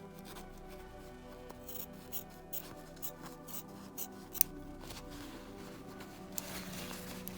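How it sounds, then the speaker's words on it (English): Duckbill scissors trimming the edge of a sewn fabric face mask, giving quiet, scattered snips and soft rubbing of cloth, close but faint, with no voices. "So I'd go in about 1 inch from that edge and start trimming there."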